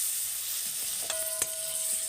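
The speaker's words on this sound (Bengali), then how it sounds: "আবার এটাকে আমি ভালো করে কষিয়ে দেবো।" Spices and poppy seed paste fry in a pan for a vegetarian curd-and-pointed-gourd dish, with a steady wet sizzle under short scraping strokes of a spatula, close and continuous with no voices.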